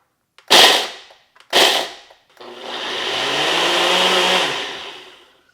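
A blender pulses crushed cookies for a no-bake key lime cheesecake crust: two short, loud whirring bursts, then a longer continuous grind that fades away, heard close and alone.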